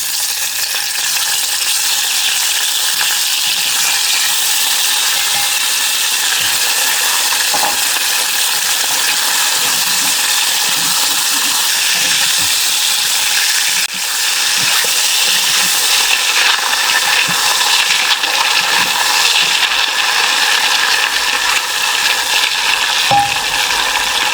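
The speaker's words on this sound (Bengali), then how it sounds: "তেল তো গরম হয়ে গেছে, এইবার মাছ দিয়ে দিচ্ছি।" Hilsa fish frying in hot oil with turmeric and salt, a loud, steady crackling sizzle that holds close and unbroken for the whole stretch, with no talking.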